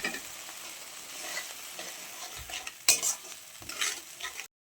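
Spice paste for an egg curry frying in a pan, a soft continuous sizzle with stirring scrapes and a couple of sharper crackling bursts, close and fairly quiet before cutting off.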